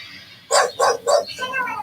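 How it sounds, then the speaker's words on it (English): A dog named Rusan barks three times in a palace garden, loud and close with even spacing, then trails off into a softer whine or yip. "when Rusan began to bark at a bush."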